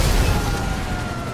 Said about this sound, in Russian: Так, поднимаемся и взрываем это дело.